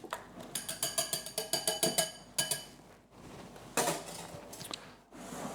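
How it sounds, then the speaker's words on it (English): A couple of eggs are mixed in a bowl in a home kitchen, the whisk or spoon clinking against the bowl in a quick regular rhythm of about a dozen close taps, followed by a few scraping strokes. "Give that a little mix."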